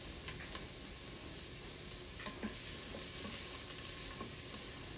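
Chopped onion sautéing with seasoning in a pot for a one-pot hamburger mac, giving a steady soft sizzle with a few spoon scrapes and stirs, close and alone.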